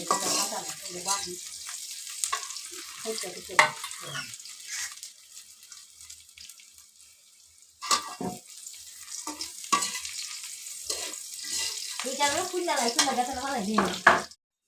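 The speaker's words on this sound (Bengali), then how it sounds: "এই দেখুন এগুলো পেঁয়াজগুলো ভালো করে ভেজে নিচ্ছি" Onions fry in a pan while being stirred, producing bursts of sizzling and scraping with quieter gaps between, and a voice briefly heard near the end.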